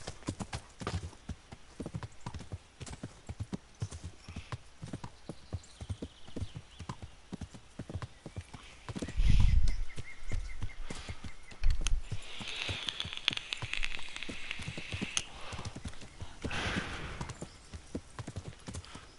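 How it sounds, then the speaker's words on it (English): Horse hooves clip-clopping steadily in Kingdom Come Deliverance, with a low grumbling snort from the horse midway, moderately close and continuous. "The horse will make grumbling sounds when it's annoyed or upset, or in general starting to get panicked."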